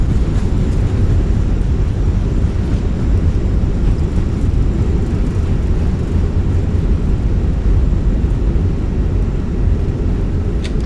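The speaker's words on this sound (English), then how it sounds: "Reversers are out." Airbus A320 thrust reversers roaring on landing in Microsoft Flight Simulator, a loud, steady broadband engine rumble that holds constant throughout with no voices.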